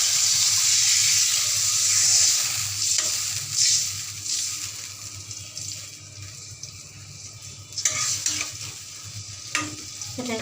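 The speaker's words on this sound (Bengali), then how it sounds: "এখন দিয়ে দিচ্ছি পানি।" Water poured into a pan of frying fish-head and radish curry hisses and sizzles steadily, with stirring and splashing in a busy, close kitchen sound that eases slightly toward the end.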